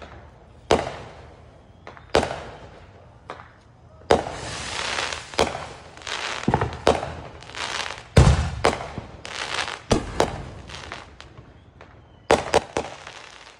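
Neighborhood Fourth of July fireworks go off in a long irregular series of sharp cracks and bangs, some close and loud, others fainter, with short crackling tails between the reports.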